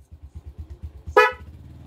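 A single short horn toot from a Smash 115 carburetor motorcycle, loud and close, cutting over the rhythmic chug of the idling engine.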